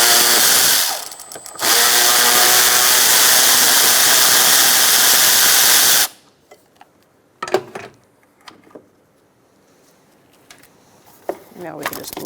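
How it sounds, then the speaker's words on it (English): A power tool fitted with an 8mm socket backs a bolt out of the radiator shroud on a 2007-2017 Ford Expedition 5.4L V8. A loud, continuous whir runs for about six seconds with a brief dip early on, then gives way to quiet clicks and handling noises. "Using an 8mm socket, I'm going to take out this bolt just to remove this extra box on the side of the shroud."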